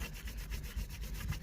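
Dry paper towel rubbed over an oily Ducati dry clutch casing, making a faint, rhythmic scrubbing with repeated strokes about every tenth of a second, quiet and close.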